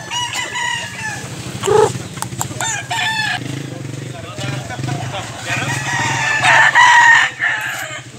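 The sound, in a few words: rooster crowing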